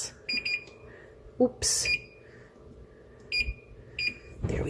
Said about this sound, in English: set this timer for another 5 minutes